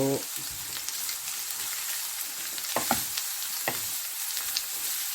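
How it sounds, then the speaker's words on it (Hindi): Chicken sizzling lightly in oil in a pan for chicken spring rolls, a steady hissing fry close up with a few brief scraping stirs, no talking. "इसको आपने ऑयल के अंदर हल्का सा भूनना है"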